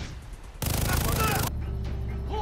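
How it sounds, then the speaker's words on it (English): Gunfire in the Far Cry video game near a captured outpost, with a dense burst of rapid shots that starts abruptly and stops about a second later over game ambience. "Who's shooting?"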